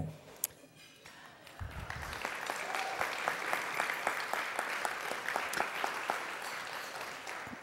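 Applause from an audience at an awards luncheon swells up after a quiet opening, then continues as a dense, moderately distant clatter of many hands to the end.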